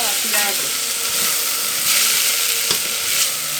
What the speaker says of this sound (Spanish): sin dejar de batir para que no se nos vaya a quemar el arroz